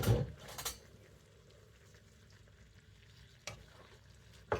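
Noodles with soy sauce, lemon juice and seafood powder being stir-fried in a pan, with scraping and clinking utensil strokes at the start and a few later, over a soft continuous sizzle, close and without talk.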